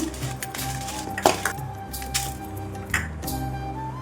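Dried red chilies frying in oil in a pan, a close, steady sizzle and crackle with occasional clinks of a utensil against the pan, no talk.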